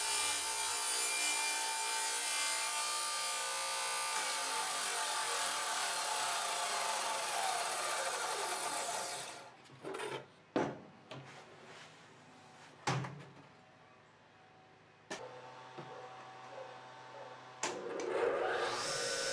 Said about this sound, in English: I'm going to start by squaring up this scrap piece of plywood that I've had laying around my shop for like forever, using a jig that I have made.